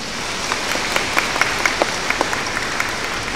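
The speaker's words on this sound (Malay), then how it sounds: "Kita berikan satu tepukan gemuruh kepada Datuk Pengarah." An audience at a Sabah school-sector gathering stands and gives a thunderous round of applause, steady dense clapping throughout with a few sharper individual claps standing out near the front.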